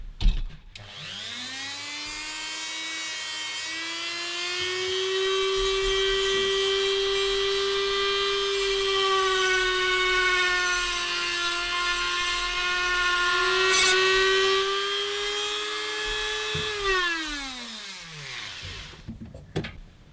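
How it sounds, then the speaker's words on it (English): Power tool spinning a wire wheel against painted metal, stripping paint to bare metal around a stud during autotransformer assembly: a loud, steady whining grind that holds one pitch for about fifteen seconds, then winds down. "I've got this wire wheel on at the moment."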